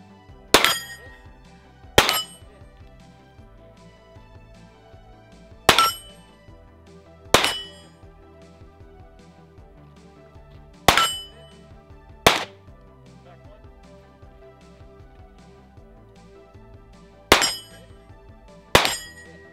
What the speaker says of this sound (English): Get to the first box, engage both steel targets.